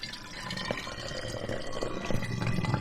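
Strained homemade apple cider vinegar poured steadily into a container, a continuous close liquid splash and trickle that swells slightly toward the end.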